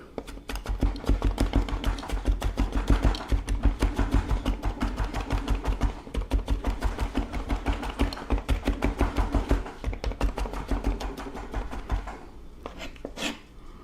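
A knife chopping food finely on a cutting board, a fast, steady run of close, evenly spaced thuds and scrapes, lasting nearly the whole stretch before slowing into a few scattered cuts at the end.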